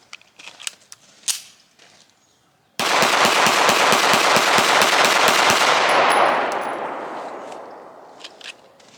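A Springfield Armory SA-35 pistol fired outdoors after repair: a rapid, continuous string of sharp gunshots lasting about three seconds, loud and near, with a long echoing decay trailing off afterward.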